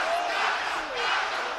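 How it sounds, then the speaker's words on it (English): Boxing fans at a celebrity fight chanting Carter-Efe's name, a loud, dense crowd roar with a rhythmic chanting swell, very brief. "you can see the fans of Carter-Efe chanting his name"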